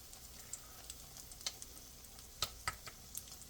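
Shrimp egg foo young frying in a pan, a faint steady sizzle with a few brief crackles and pops at scattered moments, heard alone with no talking.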